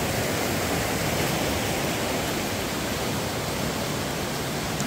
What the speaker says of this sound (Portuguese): A cachoeira não dá para encostar lá, galera, porque realmente está muito forte